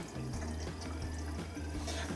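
A Beko washing machine filling with water at the start of a rinse cycle, a soft steady trickle and splash of inflowing water with a low hum beneath, quiet and alone.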